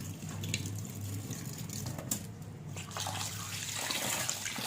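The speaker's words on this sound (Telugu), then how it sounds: "మీద మీద వేళ్లతో ఈ విధంగా కడిగి మనం నీరు నీళ్ళు అనేది వేసి నానబెట్టుకోవాలి" Soft, quiet water sloshing and trickling as brown top millet grains are gently rubbed with fingers in a bowl of water, with a low steady hum underneath.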